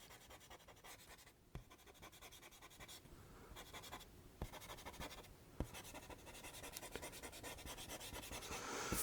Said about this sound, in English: I'm doing very heavy erasing of very heavy pencil marks on top of very solid ink